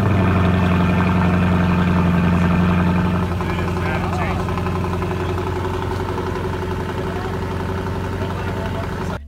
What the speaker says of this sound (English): starting a vehicle when it's completely cold